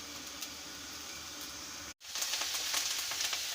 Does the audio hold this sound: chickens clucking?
no